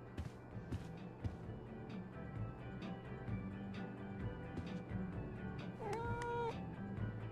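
A cat meows in a game scene, several short soft calls over a low ambient bed, with a longer, clearer meow near the end.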